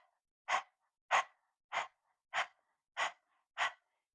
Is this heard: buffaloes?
no